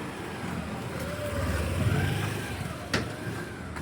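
A car or similar road vehicle passes along a village road, its engine swelling to a peak midway and then easing off, with a short sharp knock near the end.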